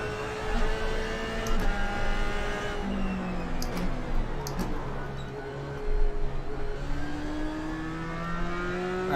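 Race car engine in the iRacing sim game, revving and accelerating with clear gear-change drops in pitch, a steady loud drone that rises and falls through corners, no talk.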